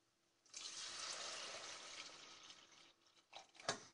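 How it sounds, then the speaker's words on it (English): Milk pours into a flour and butter roux for béchamel, a quiet, steady liquid rush that tapers into a few splashy drips near the end. "I'm going to add the first half of the milk now."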